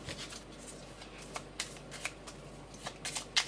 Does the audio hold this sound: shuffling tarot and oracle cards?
yes